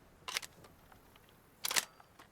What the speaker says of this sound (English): coming forward to pull that bolt